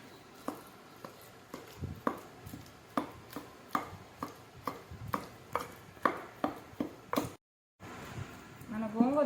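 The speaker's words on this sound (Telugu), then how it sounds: "ఇలా తిప్పుకొని నూరుకోవాలి" Gongura leaves and green chillies are pounded in a stone mortar, giving a steady series of sharp, close thuds about once every half second, with someone speaking at times over the work.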